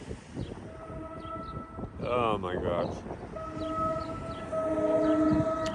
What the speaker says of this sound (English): These trains.